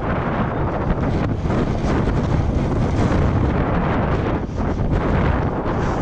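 Strong wind buffets the microphone in a snowstorm on a New York City street, a loud, continuous roar with dense rumbling gusts and no letup for the whole stretch.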